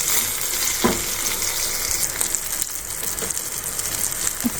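Chillies sizzle and crackle steadily in hot oil in a pan, a constant close frying hiss with a few sharper spits and occasional stirring clatter, no voices.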